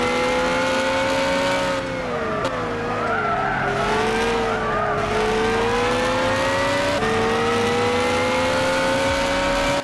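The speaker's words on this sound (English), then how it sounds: "let's listen to this Corvette here, Z06 Corvette going around Brands." A Corvette Z06 engine in the Gran Turismo racing game, lapping the Brands Hatch circuit, drones steadily with rising and falling revs through corners and brief tire skids, loud and continuous with no talk.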